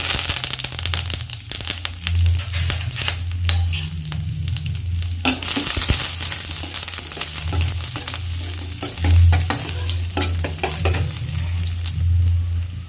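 Mustard seeds, shallots and curry leaves sizzle in hot oil, a steady dense frying crackle with scattered pops and occasional louder bursts as the pan is stirred, close and continuous with no talking.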